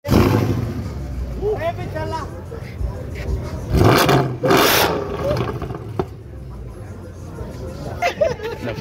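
A Mercedes W204 engine revs at a car show, with throaty bursts of revving rising and falling amid crowd chatter and people talking nearby.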